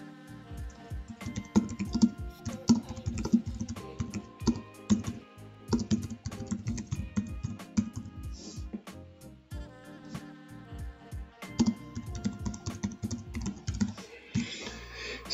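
Typing on a computer keyboard while entering text in a desktop eBook editor: a steady run of quick, irregular key clicks lasting several seconds, close and moderately loud, with a few brief pauses and no talking.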